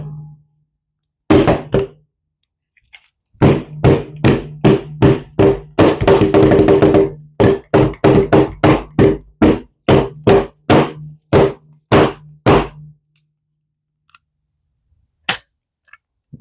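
A Sig P320 pistol is struck over and over in a misfire attempt: about twenty loud, close, sharp knocking hits, some in quick bursts and others spaced apart, with short silent gaps and a last lone strike.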